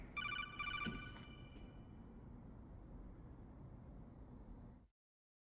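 A telephone rings in the video game Metal Gear Solid: The Twin Snakes, a bright, trilling electronic ring for about a second, followed by steady background hiss that cuts off abruptly.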